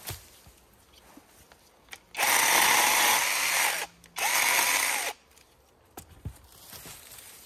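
SeeSii 12-inch cordless chainsaw running in two loud, steady bursts of about a second and a half each, separated by a short pause, with quieter handling clicks before and after.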